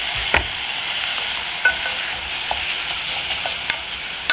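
Drained potatoes stir-fried in butter for a potato cream soup, a steady bright sizzle with occasional light clicks and scrapes of a utensil against the pan.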